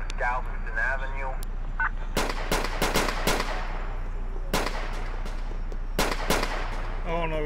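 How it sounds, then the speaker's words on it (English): Gunfire in a police patrol video game, an LAPD roleplay setting, with sharp, loud shots in irregular bursts and quick volleys over a steady background hum, alongside brief voice chatter. "Oh no, we got shots fired."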